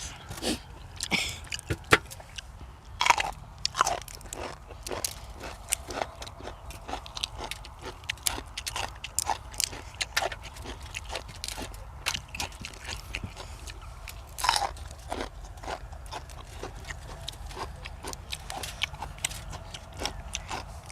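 Salt-grilled river prawns being crunched and chewed outdoors by a sunn hemp field, with a steady run of close, sharp bites and crunches over about twenty seconds and no talk.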